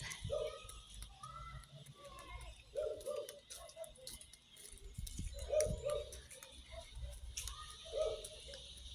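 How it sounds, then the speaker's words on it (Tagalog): Dogs yip and whimper in short bursts at a distance, repeating every couple of seconds over low background noise. "Nag-walking ang mga doggy."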